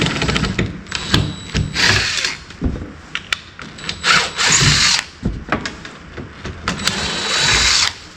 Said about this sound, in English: We'll drill a hole through both, bolt that on in 4 places.